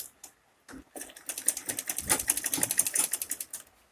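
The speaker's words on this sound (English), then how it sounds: "So after placing your placket like that, you are going to sew down." A sewing machine stitches down the white placket on a unisex danshiki. After a few faint starts, a fast, even run of close stitching clatter builds and holds for several seconds before trailing off, with no talking.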